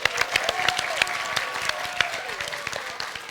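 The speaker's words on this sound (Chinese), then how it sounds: "我们掌声欢迎他们2位" A studio audience at a stand-up comedy contest applauds to welcome two comedians: sustained, lively clapping with sharp individual claps popping out, and faint music underneath.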